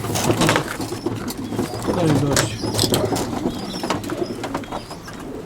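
Pigeons coo and flutter close by while being handled and boxed for transport, with someone talking over them and a faint engine hum underneath.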